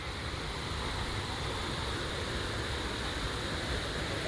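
A rain-fed waterfall rushes with heavy flow, a dense, continuous roar filling the whole clip at a steady level with no voices over it.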